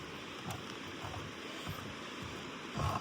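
Flowing water of the Toxaway River near a suspension bridge, a steady broadband rush with a brief louder swell near the end; no one speaks.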